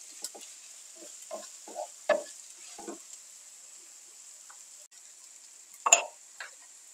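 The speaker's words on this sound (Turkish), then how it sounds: "Biberlerle birlikte de birkaç dakika kavuracağım." Chopped peppers sauté in a pan, with a soft background sizzle broken by a series of brief stirring scrapes and clatters, one louder burst near the end. No one speaks.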